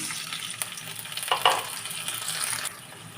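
Water hits onions frying in a pan while greens are being cooked, giving a brief louder hiss and crackle before the sizzle settles into a quieter steady simmer.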